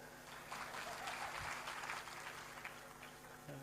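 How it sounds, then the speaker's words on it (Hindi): An audience claps in a speech gathering, a steady, dense wash of hand clapping that fills the whole moment at moderate volume. "चलो 12 वालों के हाथ ताली बजा दो"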